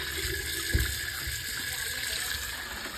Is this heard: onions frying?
no